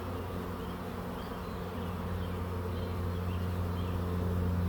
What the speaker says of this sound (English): So this is definitely a large swarm. They're constantly running in there.